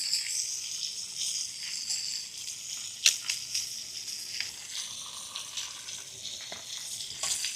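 Garlic fries alongside a ribeye steak in a hot buttered pan, giving a steady close sizzle with scattered crackles and one sharp pop, with nobody talking.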